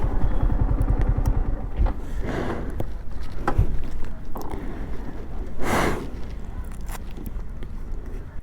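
A motorcycle rumbles close by at idle as it is parked at an old fort, then cuts out, leaving thuds, clatter and footsteps.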